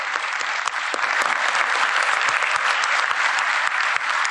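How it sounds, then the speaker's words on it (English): A large conference audience applauds continuously, a dense, even wash of many hands clapping at fairly close range that holds steady for the whole stretch. "I'd like to really applaud you guys for helping us out."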